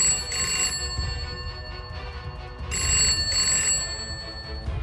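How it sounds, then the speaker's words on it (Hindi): A telephone rings inside a police station, its electronic bell trilling in two clear bursts over a low background murmur, staged as an audio drama effect. "तभी थाने में रखा हुआ फ़ोन बजता है।"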